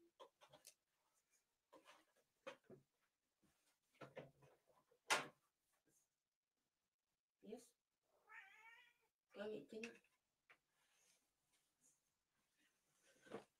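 A pet cat meows at a door waiting to be let in, giving several short, scattered calls between quiet gaps, with a person talking nearby.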